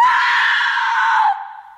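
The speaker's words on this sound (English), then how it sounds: "screams herself awake from the naked in the high school cafeteria nightmare" Grace, played by an actress in The Others, screams herself awake from a nightmare: one loud, sustained high scream that holds steady and then trails off at the end.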